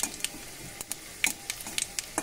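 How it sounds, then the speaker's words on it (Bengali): Mustard seeds, bay leaves and a dried chili spluttering in hot oil for a mango chutney tempering, a fine steady sizzle broken by sharp pops and crackles scattered irregularly close by. "ফোড়নটা একটু ভালো করে ভাজা ভাজা করে নেব।"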